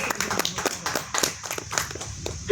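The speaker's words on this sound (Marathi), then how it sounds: "ह्या गोष्टीवर टाळ्या झाल्याच पाहिजेत की" Audience at a Marathi lecture on Shri Basaveshwar breaking into applause, a close, uneven patter of individual hand claps in loose rhythm, thinning out toward the end.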